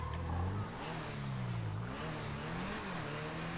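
A car engine in Grand Theft Auto V pulls away, its tone rising and falling through gear changes as it revs steadily and drives off over the whole stretch.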